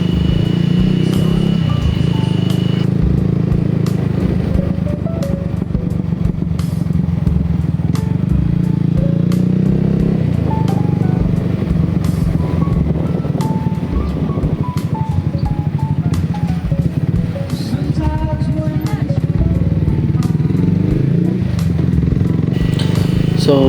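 A Suzuki Raider 155 motorcycle engine drones steadily and loudly throughout a ride, with rumbling shifts in pitch and occasional rattles, and no clear talking.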